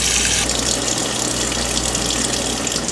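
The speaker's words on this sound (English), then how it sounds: "I am going to just open a faucet to make sure there's no pressure in the line." A faucet aboard a boat is opened to bleed pressure from the water line. It gives a steady, close hiss of rushing water with a low hum, beginning abruptly after a brief quiet start and continuing unbroken.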